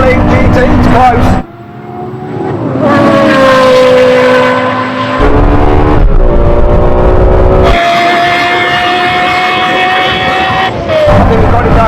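Porsche Carrera GT and Lexus LFA roar through a drag race, loud high-revving engines rising in pitch through gear changes with brief drops between shifts, the wailing exhaust notes dominating throughout.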